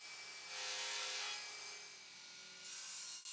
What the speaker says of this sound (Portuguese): Na tupia de mesa, quero fazer um rebaixo para acomodar as extremidades das ripas.